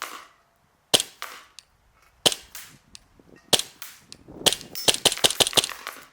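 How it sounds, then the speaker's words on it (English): An airsoft gun on a CO2 magazine fires a series of sharp, poppy shots, single cracks spaced apart at first and then a quicker cluster of shots near the end, close and loud. "the CO2 mag is way more poppy"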